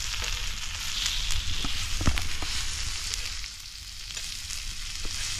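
Pomfret fish frying in oil in a pan, a steady close hiss of sizzling with scattered small pops and crackles, constant and fairly loud without any talking.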